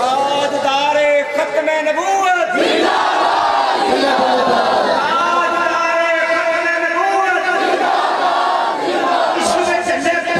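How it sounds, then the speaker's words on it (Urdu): A large crowd chants a religious slogan in praise of the Prophet at a mawlid gathering in a mosque, loud massed voices roaring in unison and sustained across the whole stretch with repeated swells. "اپنے آپ کو باہر ہو کے حضور کا نعرہ لاؤ"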